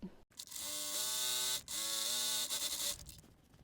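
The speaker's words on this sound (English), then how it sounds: "I'm just gonna give it a good straight stitch here on the folded part" A sewing machine runs a straight stitch along folded fabric in close bursts, with a mechanical whir that rises and falls in pitch and short pauses between runs, no talk.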